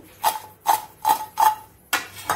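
Five quick crisp rustling clatters in a steady rhythm as crispy homemade french fries are tossed and land together, close and fairly loud.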